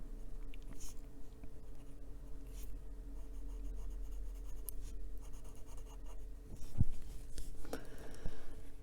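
A pencil colours in tiny black areas of an adult colouring page, giving a soft, steady scratching over paper, faint and close, with a few slightly louder strokes near the end.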